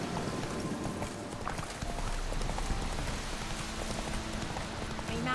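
Roach the horse trots along in a Witcher video game, steady hoof clip-clops running through the whole stretch over a soft patter like rain, close and fairly loud, with no talk.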